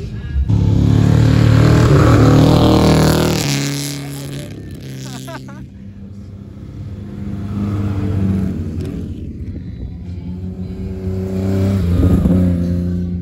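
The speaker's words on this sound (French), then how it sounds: "regardez le drift qu'il fait. Il est en Jaguar XKSS le mec." Jaguar XKSS drifting across snow at an ice event in St. Moritz, its engine note loud and sustained, dipping mid-clip and then surging again, with voices talking over it.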